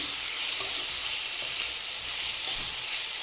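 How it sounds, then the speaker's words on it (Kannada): Tomatoes frying in hot oil with vegetables in a pan for mixed rava upma, giving a steady, bright crackling sizzle throughout with a single sharper pop early on, fairly close and alone without talk. "ಟೊಮೊಟೊ ಹಾಕಿ ಟೊಮೊಟೊನು ಒಂದು 5 ನಿಮಿಷ ಫ್ರೈ ಮಾಡಿ."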